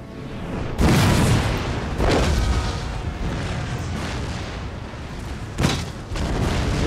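Massed musket volleys from a firing squad in Empire: Total War, a battle on a bridge against Russian troops, crack out as loud bursts, one at the start and another near the end, over constant distant battle rumble.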